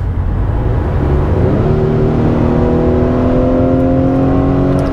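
A 2021 Acura TLX A Spec accelerates hard from inside the cabin, its engine note climbing steadily in pitch as revs build, loud and continuous over a road rumble, without speech.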